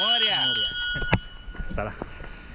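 A temple bell on the Sondai Fort trek near Mumbai gives one clear ringing strike that hangs and fades, while people talk around it.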